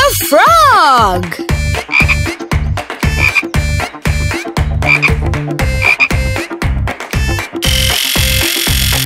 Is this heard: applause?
no